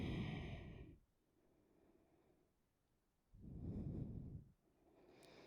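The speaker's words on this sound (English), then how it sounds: "Breathing." Slow, audible breaths during a core yoga exercise, two long exhalations a few seconds apart with quieter inhaling between them, close and clear with no talking.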